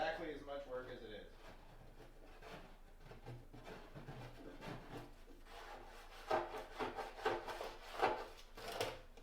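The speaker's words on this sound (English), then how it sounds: "then we'll take the scraper to it to get all the adhesive off" A scraper rubs and scrapes adhesive off the paint of a Porsche 944 in a garage, giving repeated faint rasping strokes that grow busier toward the end, with a voice heard at the start.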